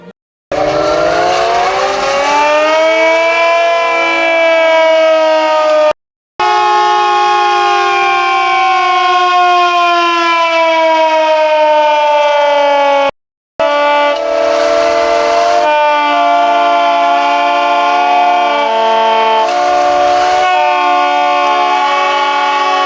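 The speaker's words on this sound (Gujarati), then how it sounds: "યુદ્ધ સમયે વાગતા સાયરનની સમજ અપાઈ" A loud, steady civil defense war siren wails for a long time during a municipal drill in Palanpur, holding one sustained tone with two brief cutouts.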